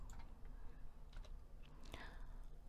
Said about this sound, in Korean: 계산기 또 눌러야죠.